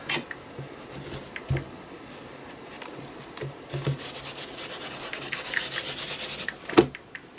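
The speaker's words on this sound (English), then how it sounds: "I'll just wipe up that bit of excess paint off there." Excess paint is wiped off an art journal page in soft, close rubbing strokes that come in short bursts and grow busier toward the end, with one sharper scrape near the finish.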